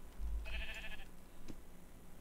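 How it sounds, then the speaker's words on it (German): A Minecraft sheep lets out a single short, wavering bleat, moderately close against a faint ambient background, with no talking. "Ich bringe jetzt mal Schafe ins Dorf"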